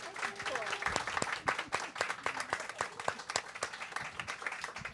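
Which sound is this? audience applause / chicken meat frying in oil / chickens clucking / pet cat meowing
audience applause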